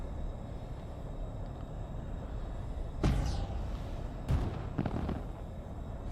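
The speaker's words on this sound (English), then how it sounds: "Fireworks have started already." Fireworks go off in the space game Elite Dangerous: two sharp bursts with crackling trails stand out over a constant low rumbling background, with no talking.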